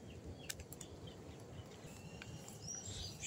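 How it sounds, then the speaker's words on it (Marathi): Faint, scattered bird chirps ring out over a low, soft rumble of surf near Shrivardhan beach on the Konkan coast in the monsoon, quiet and distant with no talking. "शांत चालत राहिलो तर फक्त पक्ष्यांचे आवाज येत आहेत कानावर आणि समुद्राची गाज"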